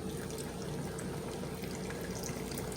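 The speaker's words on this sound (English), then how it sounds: "just fill the rest of this with water" Filtered water from a Brita jug pours steadily into a container for a hummingbird feeder, a continuous close splashing rush with no pauses.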